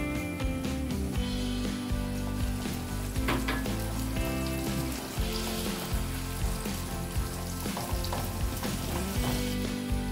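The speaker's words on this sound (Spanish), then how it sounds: "Vamos a echarle ahora la mitad del vinagre que tenemos aquí reservado." Vinegar poured into a hot pan of oil and vegetables, for escabeche-style mackerel, hisses and sizzles loudly and continuously up close, with occasional stirring clatter.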